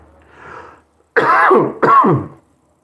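Two harsh, throaty coughs in quick succession, close to the mic, after a faint muffled sound and a short pause.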